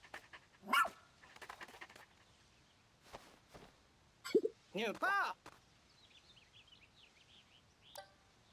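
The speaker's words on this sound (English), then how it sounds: "And the dog is going to manage to lick this guy awake even though he's licking the helmet." In the video game Pikmin 4, a dog pants and gives a few short barks and yips in scattered bursts, with soft footsteps and faint bird-like chirps between them.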